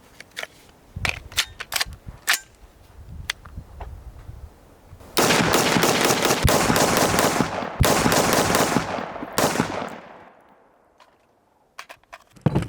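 A Daniel Defense DDM4V7 AR-15 rifle fires outdoors on a shooting range: several separated loud single shots, then a long rapid string of shots with echo before the sound trails off and a few more shots follow.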